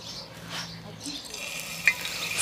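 Potatoes frying in oil in a pan, a soft steady sizzle with occasional stirring scrapes and a sharp clink of utensil against the pan.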